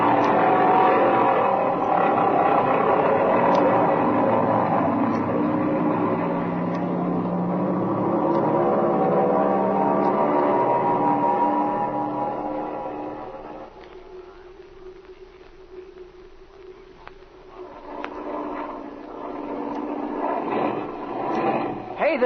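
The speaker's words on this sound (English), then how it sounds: "Hey, this engine's missing, Speed." Airplane engine misfiring in a radio drama, a loud droning roar that sputters and drops away partway through, then rises again unevenly.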